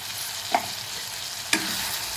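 Rock salt and turmeric are stirred in a frying pan, two distinct scraping strokes of the spoon over a steady background sizzle.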